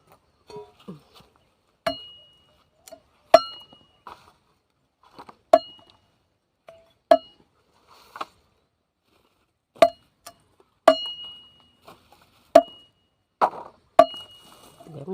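Sharp, irregular knocks of a knife striking a board, each a crisp wooden chop with a faint ring, spaced a second or two apart and close by.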